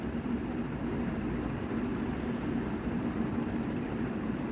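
The Changi Airport sky train in Singapore runs with a steady, even rumble and rolling noise heard from inside the car, with no talking.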